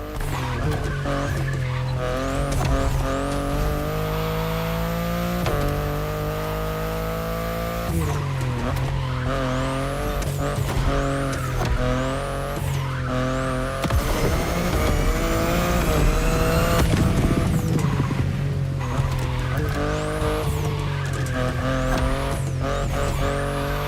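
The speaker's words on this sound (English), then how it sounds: "the i8, the sports car you're driving" A BMW i8 sports car driven hard in The Crew Motorfest video game, its engine revving up and down through gear shifts with tyres squealing through corners, loud and continuous throughout.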